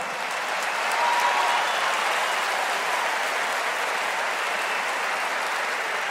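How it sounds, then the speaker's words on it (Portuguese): A church youth congregation applauds loudly, a dense, even wall of clapping that swells briefly near the start and then holds steady and strong for the whole stretch, with no voices standing out. "E como igreja, vai aplaudir, aplauda forte."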